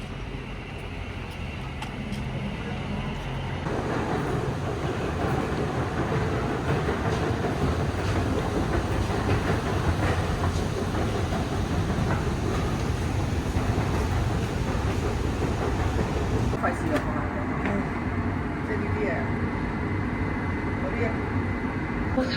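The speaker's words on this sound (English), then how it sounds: "This is a Victoria Line train to Brixton." Victoria Line train on the London Underground running toward Brixton, a steady loud rumbling roar of wheels and tunnel noise that swells after a quieter start and holds throughout.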